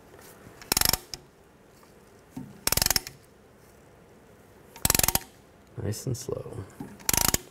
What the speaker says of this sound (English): use a caliper compressing tool. And slowly compress the caliper.